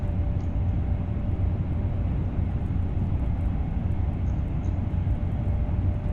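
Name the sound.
train passing in Train Sim World 2 video game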